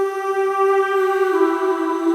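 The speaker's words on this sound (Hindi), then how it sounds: "और साथ साथ मैंने डुडुक का साउंड भी लिया हुआ है" Duduk tone in an ambient EDM track, a single sustained reedy note held steadily with rich harmonics, swelling slightly partway through, alone without talk.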